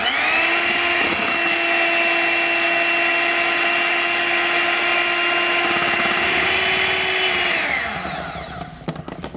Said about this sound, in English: as you're whipping the cream, it starts to get a little bit thicker